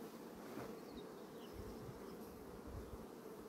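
Honeybees swarm around beehive frames, a dense, close, continuous buzzing drone with faint shifting whines and no talking.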